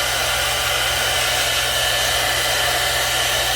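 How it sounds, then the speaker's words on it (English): A blow dryer drying glue on a lace front wig, a loud, steady, continuous whoosh with a low motor hum underneath and no talk. "Use a blow dryer."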